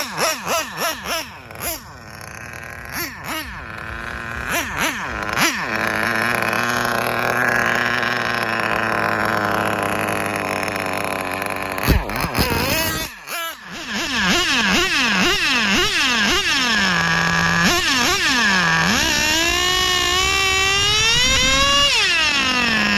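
Kyosho V-One RR vintage nitro touring car with an OS engine, revving in sharp bursts then settling into a steady, buzzing idle, with a brief cutout before a long, loud, even idle resumes.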